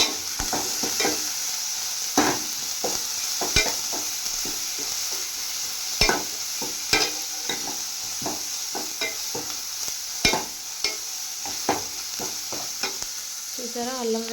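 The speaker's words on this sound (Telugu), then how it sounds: "అల్లం వెల్లుల్లి పేస్ట్ అండ్ పచ్చిమిర్చి అండ్ ఆనియన్స్ అండ్ మెంతులు ఇంతేనండి. మన తాలింపుకి ఇది సరిపోద్ది." Ginger-garlic paste, green chillies, onions and fenugreek seeds frying in hot oil, with a steady sizzle broken by repeated scraping stirs of a spoon against the pan, close and fairly quiet.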